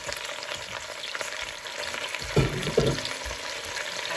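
Choy sum stir-frying in oyster sauce in a pan makes a continuous loud sizzle, with a couple of clunks from the pan partway through; no talking.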